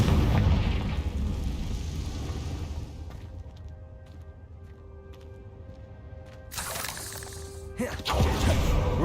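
A Confringo spell blast in the Hogwarts Legacy video game bursts out as a loud, broad explosion near the end, after a stretch of quieter low rumble with a softer earlier burst.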